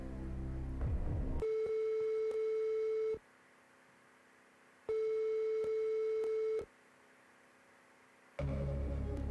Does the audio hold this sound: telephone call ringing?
yes